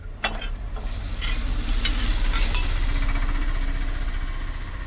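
Soya chunks dropped into bubbling masala oil cooked on a lorry, a loud continuous sizzle close by with a few metal spoon clinks at the start.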